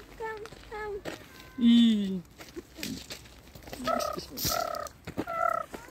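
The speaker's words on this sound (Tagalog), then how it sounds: "That sound is pigeon sound." Pigeons calling from a hilltop lookout, a series of short, loud, near calls, one deeper drawn-out call and then a few brief repeated bursts, with soft outdoor background.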